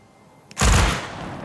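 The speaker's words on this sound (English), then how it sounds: "I don't know why she's shooting" A sudden loud burst of gunfire from a character shooting in the colony-building game Dawn Apart, a sharp blast that rings out and slowly decays over quiet ambience.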